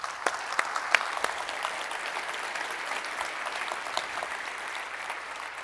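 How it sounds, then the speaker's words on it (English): Distant, fairly quiet applause from a conference audience runs steadily, with a few sharper individual claps standing out early on. "let's give a round of applause really quick for them"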